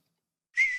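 A grass whistle crafted in the Salem video game gives one short, clear, high whistling tone that starts abruptly after a moment of silence and holds steady for about a quarter second.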